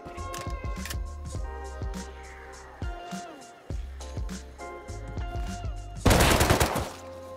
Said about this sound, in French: Ah, MP5, ça est devenu mon arme préférée.